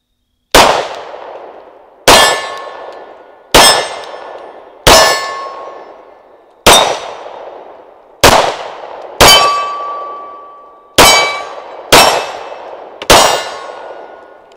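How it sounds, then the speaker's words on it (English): A TISAS 1911 Stingray Carry pistol firing at a steel target: ten spaced shots, each a sharp crack followed by a bright ringing clang from the steel that decays before the next round, loud and clear with no talk. "This time I'm going to just see if I can get on steel and see how I can shoot with it"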